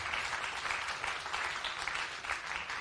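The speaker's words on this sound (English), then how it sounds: "Let us give our panel a round of applause" An audience gives a panel a steady, even round of applause at the close of a discussion event, heard from a slight distance and continuous throughout.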